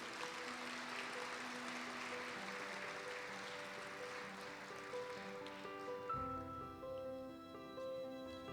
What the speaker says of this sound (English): another round of applause and congratulations again to our CARE Award winners tonight